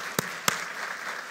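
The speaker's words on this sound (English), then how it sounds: "she needs a big hand of applause" Audience applause at an interventional cardiology conference, a steady wash of clapping with two sharper, louder claps standing out near the start, fairly close and without speech.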